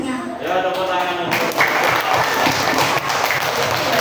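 Applause fills a classroom after a student group's presentation, a steady dense patter of many hands clapping at close range throughout, with faint voices mixed in.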